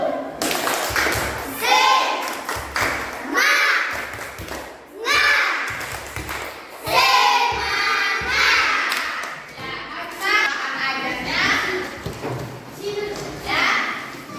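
Third-grade primary school children in a classroom perform a rhythmic chant-and-clap cheer, sharp clap clusters falling in patterned beats between bursts of children's voices, close and lively throughout.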